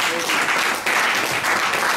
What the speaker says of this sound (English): I want you to clap for yourselves.